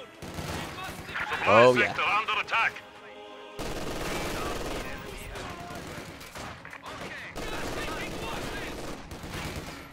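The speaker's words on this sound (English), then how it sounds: "MG42 jumps inside the church. Let's see if he can get some range on those conscripts." Rapid machine-gun bursts from an MG42 in a World War strategy game, firing at conscripts from inside a church, loud and close over the first few seconds, then busier battle noise continues beneath a commentator talking.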